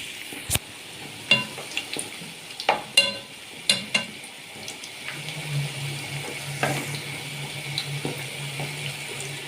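Balah el sham dough fries in hot oil with a soft continuous bubbling sizzle, broken by several sharp clinks and scrapes of utensils early on, with no talking.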